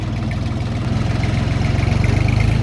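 Jinma 244 Lux tractor engine running in its lowest reduced gear, a loud, close diesel chug with a steady rapid pulsing rhythm and no voices.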